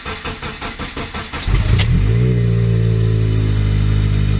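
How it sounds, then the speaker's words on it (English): A 2005 Honda Accord with a K24 engine and OBX catback exhaust cold starts: rhythmic starter cranking, then the engine catches with a sharp rise and settles into a loud, steady, droning high idle close by. "Let's get a cold start up on the 2005 Honda Accord with the K24 OBX catback exhaust."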